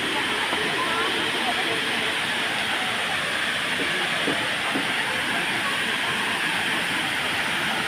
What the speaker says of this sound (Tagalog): Ayan guys, ang falls nila.